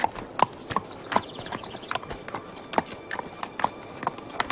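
A horse walks with steady clip-clopping hooves, a regular series of sharp, close knocks over a faint background.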